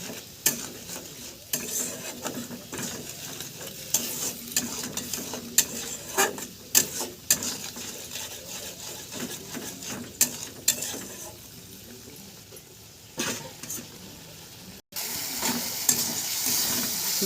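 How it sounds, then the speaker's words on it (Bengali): A spice paste frying with turmeric and chili powder water, for a ridge gourd and prawn curry: steady close sizzling, broken by frequent scraping stirs and clinks, with the hiss swelling louder near the end. No one speaks. "হলুদ গুঁড়ো লঙ্কা গুঁড়োর জলটা এটার মধ্যে দিয়ে দেব। মশলাটাকে ভালোভাবে কষে নেব।"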